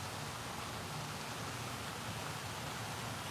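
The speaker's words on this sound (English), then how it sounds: "See this fountain right here?" Small garden fountain, roughly five or six feet tall, splashing water in a steady, rain-like hiss that runs unbroken and fairly soft, with no talk.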